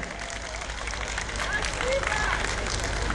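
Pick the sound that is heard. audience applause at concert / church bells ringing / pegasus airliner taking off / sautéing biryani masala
audience applause at concert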